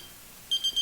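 An electronic device beeping repeatedly, three short high-pitched beeps in quick succession, clear and fairly loud against a quiet background.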